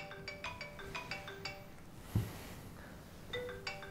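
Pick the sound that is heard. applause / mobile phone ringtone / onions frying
mobile phone ringtone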